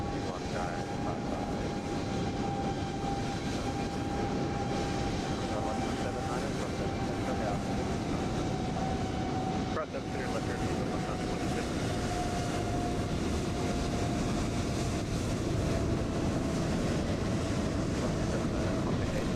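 An inbound Airbus A320neo jet in Microsoft Flight Simulator 2020, approaching Frankfurt, produces a steady, loud broadband engine roar with a faint sustained tone running throughout, unbroken for nearly twenty seconds.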